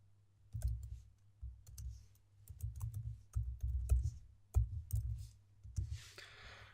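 Mouse and keyboard clicks at a computer: a run of sharp, close clicks in irregular bursts, fairly quiet, with no talking.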